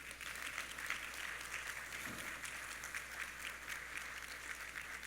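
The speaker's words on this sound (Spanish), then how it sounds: "Demos un aplauso a cada padre" Applause for fathers fills a church gathering, a steady, even crowd clapping that holds at one level throughout with no voices over it.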